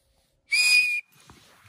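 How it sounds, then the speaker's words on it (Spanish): Someone near the Sasabe border blows a single loud, steady whistle lasting about half a second, followed by faint scattered rustles and knocks. "¿Por qué le chifla?"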